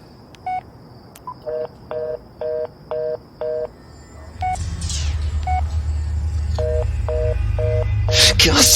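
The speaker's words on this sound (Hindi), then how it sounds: "मैंने झट से अपना फोन निकाला और पुलिस को लगाया।" A mobile phone keypad beeps out a run of evenly spaced dialing tones while calling the police beside a highway. Partway through, a low engine rumble rises underneath, and a few more tones follow.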